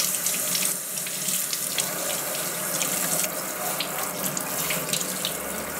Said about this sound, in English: I'm going to keep rinsing this until the water runs clear